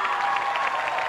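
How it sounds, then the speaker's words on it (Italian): A concert audience applauds a singer in a 1993 Italian televised appearance, producing a brief, steady wash of clapping from a sizable crowd, fairly loud and continuous. "il pubblico che ha lasciato gli spalti per applaudire"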